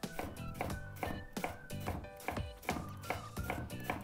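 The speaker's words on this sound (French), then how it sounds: "je taille pour faire des petits bâtonnets" A knife cuts raw beetroot into small sticks on a board, giving a quick, steady series of crisp chopping taps, close and clear, roughly three per second with no voices.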